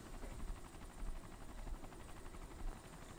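A helicopter in the video game DayZ, heard as a faint, steady rotor drone with a low rumble. The beat pulses slightly and no voices break in.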